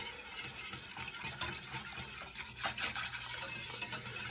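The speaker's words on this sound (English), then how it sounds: "So I am just constantly stirring this because I don't want it to stick to the bottom and burn." A spoon scrapes and stirs a chicken and rice casserole in a pot without pause, with a soft sizzle from the bottom of the pot. Close, busy scraping strokes run the whole time and no one speaks.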